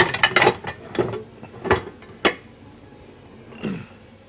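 A lid is set onto a cooking pot while chicken and mushroom risotto is being made, giving a few sharp metallic clinks and knocks close by, spaced over a few seconds with quiet between them.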